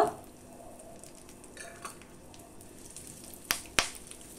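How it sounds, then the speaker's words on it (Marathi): Curry leaves and asafoetida fry in hot oil for a tempering poured over a quick Madras-style chutney, giving a steady soft sizzle with two sharp crackling pops near the end and no talk over it. "कढीपत्ताही खरपूस तळला जात आहे"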